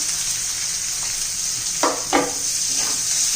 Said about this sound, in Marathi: लसूण चांगलं ब्राऊन होऊन द्यायचं आहे मग कांदा घालून द्यायचा आहे